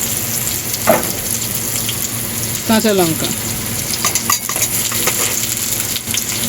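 Drumstick vegetable pieces sizzle steadily in a frying pan while being stir-fried, with a continuous crackle and bursts of scraping and stirring clatter from a utensil against the pan.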